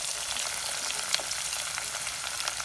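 Tomato and onion paste fries in a pan after garlic-ginger paste, giving a steady, dense sizzle that holds evenly throughout without any talking.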